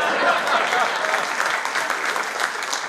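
Steady, dense applause from a seated audience at a Gujarati humour award event, loud and close, sustained throughout with a faint crowd murmur underneath.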